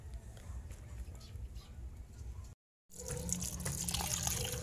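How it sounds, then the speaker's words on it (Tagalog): Freshly harvested vegetables, including bok choy, are rinsed by hand in water, giving a continuous splashing and sloshing with a brief silent gap before the swishing returns, louder. "hugasan muna natin itong ating mga gulay"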